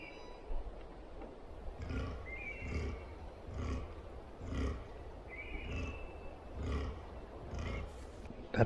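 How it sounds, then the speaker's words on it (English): Red deer buck roaring during the rut in a state forest, a series of deep guttural roars repeating roughly every second, distant and carrying, with no talk over them. "there's a buck roaring just down there"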